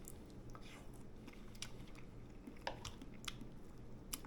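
A microwave-poached egg with cheese is eaten, giving faint, close chewing with soft wet squishes and small bites over a quiet background.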